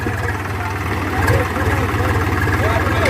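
A farm tractor engine labours in a tractor pulling contest, a deep, rumbling, throbbing drone that swells as it works, with people talking over it outdoors.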